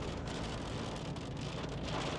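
Steady broadband hiss of rain falling in Halkidiki, Greece, constant and fairly faint, with no other distinct sounds.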